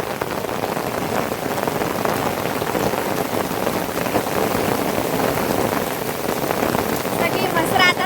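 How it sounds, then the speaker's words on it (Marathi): Rain sets in hard on a rural Maharashtra farm, a loud dense patter of drops striking nearby surfaces, continuous and close throughout. "पाऊस चालू झाला आणि तडासून पिटू येता आमचा."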